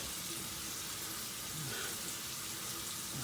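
Tap water running into a sink while a freshly trimmed beard is rinsed, a steady, moderately quiet wash of flowing water with no voices.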